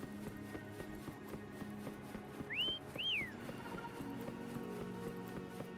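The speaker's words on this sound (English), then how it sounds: "Why don't you call Foam over? Try whistling" Two short rising whistle notes in the video game Wuthering Waves, clear and fairly close, over a steady low background hum with faint clopping.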